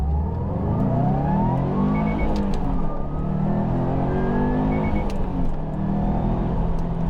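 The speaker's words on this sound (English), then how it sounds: "I'm gonna show you about that flex movement right now when I floor it on first and second gear" A 2021 Subaru WRX STI fitted with a PERRIN pitch stop mount, brace and clutch line is floored through first and second gear, its engine winding up loudly twice with a rising whine, heard from inside the car.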